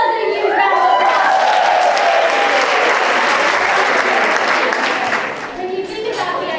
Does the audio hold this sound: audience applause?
yes